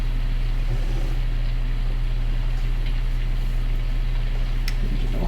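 Tractor engine in Farming Simulator 19, a loud, constant droning rumble with a strong low hum that runs steadily throughout, without talk.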